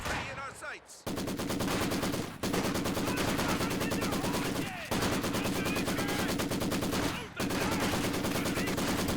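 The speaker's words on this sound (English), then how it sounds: "So now we're testing the Maxim sustained fire ability" Maxim machine gun firing its sustained fire ability in Company of Heroes 2, heard as long, loud, rapid bursts of continuous automatic fire broken by short pauses around every couple of seconds.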